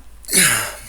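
A single close, sharp sneeze bursts out after a brief quick intake of breath, then trails off.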